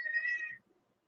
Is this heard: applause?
no